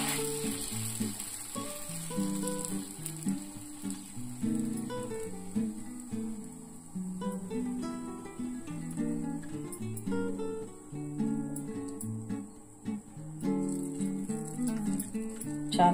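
Moong dal (pesarattu) dosa batter sizzling on a hot pan, a steady crackling fry hiss with faint scraping clicks running throughout, with no talk.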